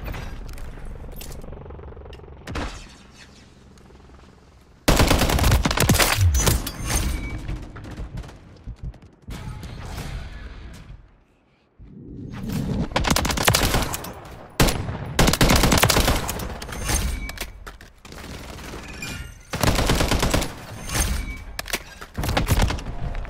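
Gunfire in the Modern Warfare 3 video game on the Rust map, with an MTZ 762 rifle: loud bursts of rapid automatic shots and booming impacts in repeated clusters, separated by quieter gaps.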